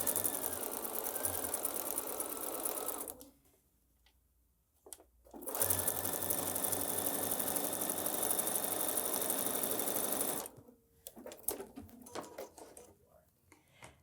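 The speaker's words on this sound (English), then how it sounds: "let me get these sewn on" A sewing machine stitches quilt pieces for a pineapple quilt in two long steady runs of close, continuous whirring, separated by short pauses and followed by lighter handling noises.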